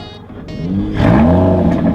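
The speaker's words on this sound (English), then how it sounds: "Aston Martin never ceases to amaze me with sound of their twin turbos." An Aston Martin DBS Superleggera twin-turbo engine cranks and fires up, rising into a loud, throaty rev before settling into a deep, steady rumble close by.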